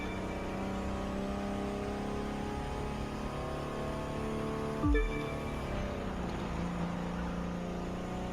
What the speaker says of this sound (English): now that sound of that nitro boost goes awesome